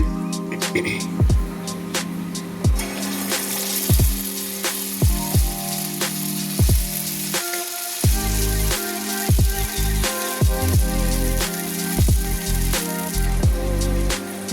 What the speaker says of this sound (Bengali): কড়াতে তেল দিয়ে দিয়েছি, আমি বড়াগুলো ভাজবো